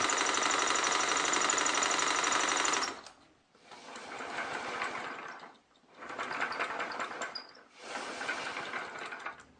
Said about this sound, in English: I'm actually using the air engine to pump air to power the other air engine.